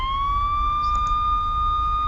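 A police car siren wails steadily in the video game Lucid 9 at a crash scene surrounded by police cars and a fire truck, a continuous tone held at the same level throughout.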